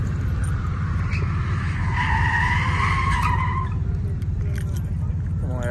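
Car tires spinning and skidding at a street car takeover in Memphis, a loud sustained engine roar with rising tire squeal, close and continuous, with a crowd in the background.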